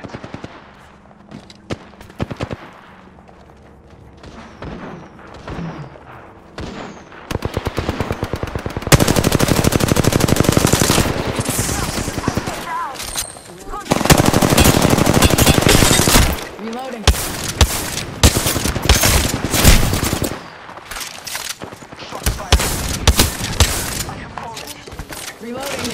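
R-301 rifle fire in a shooter game, rapid automatic bursts crackling loud and close, with long sustained volleys broken by short pauses, quieter clicks and shots between, and a voice speaking at points.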